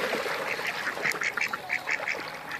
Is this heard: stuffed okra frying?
no